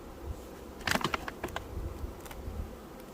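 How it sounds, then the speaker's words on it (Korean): Honeybees from a swarm that settled in a beekeeper's apiary buzz faintly and close, with brief crackling bursts from handling and no talk. "제 봉장에 분봉 들어온 벌인데요"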